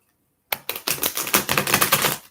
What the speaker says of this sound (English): Let's give him a couple good shuffles.